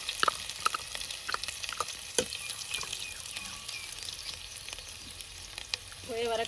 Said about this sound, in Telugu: ఇది ఇప్పుడు బాగా హీట్గా ఉన్న ఆయిల్లో ఫస్ట్ ఈ పేస్ట్ వేసి ఇది దంచుకున్న కచ్చపచ్చ దంచుకున్నది ఇందులో వేసి మంచిగా ఫ్రై చేసుకోవాలి